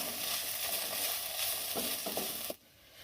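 Chopped capsicum fries with other vegetables in a pan for macaroni masala, a steady close sizzle with a few stirring scrapes that cuts off abruptly near the end, leaving a faint hiss; no one speaks.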